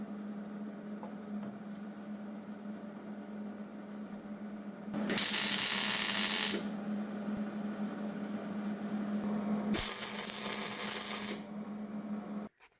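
Welding a hatch strut bracket onto a 1972 Datsun 240Z through a weldable coating, two bursts of harsh crackling hiss, each about one and a half seconds, close up over a low steady hum.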